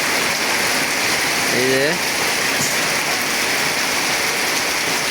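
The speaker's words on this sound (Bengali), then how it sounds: "প্রচন্ড পরিমাণ বৃষ্টি।" Heavy rain pours down at Baradi market, a dense steady roar of water with gusting wind lasting throughout, and a man's brief speech cutting in near the middle.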